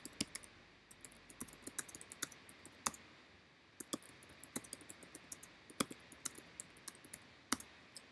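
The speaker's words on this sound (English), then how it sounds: "I would manually actually type in my Twitter or my tweet for this particular video" Close, fairly quiet typing on a computer keyboard as a tweet is entered, with irregular clusters of crisp key clicks and short pauses between bursts.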